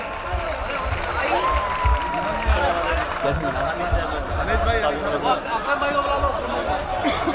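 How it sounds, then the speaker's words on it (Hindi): Crowd at a mushaira poetry gathering in Jogeshwari East, Mumbai, applauding to welcome poet Imran Pratapgarhi, a steady dense roar of clapping mixed with chatter and voices throughout. "पुरजोर तालियों से उनका इस्तकबाल करें"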